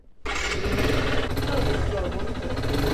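A repaired motorcycle engine fires up abruptly and keeps running with a loud, steady, rough idle close by for the remaining few seconds.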